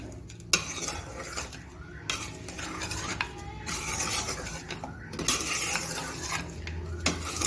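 Spoon scraping and stirring chicken with salt, turmeric and spices in a metal pot, steady clinks and scrapes with a faint sizzle underneath, close and continuous.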